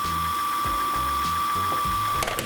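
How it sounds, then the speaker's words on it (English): A hard brush scrubs the grooves of an UGG slipper, giving a rapid, rhythmic scraping rasp in short repeated strokes, close and steady under a continuous background hum. "we're going to go hard brush. And just try to intentionally scrub inside of the grooves"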